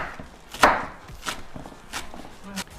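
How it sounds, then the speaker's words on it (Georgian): A knife finely chopping fresh coriander and parsley on a cutting board: a handful of separate, fairly loud thuds spaced roughly half a second to a second apart, close by, with no voices. "ახლა წვრილად დავჭერათ მწვანილი, კინძი და ოხრახუში"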